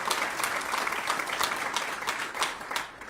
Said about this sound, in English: So how about a round of applause for RXR?